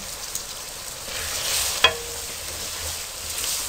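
Spiced okra (bhindi) with chilli and garam masala fries over high heat in a pan, a steady close sizzle with a single sharp spoon knock against the pan partway through.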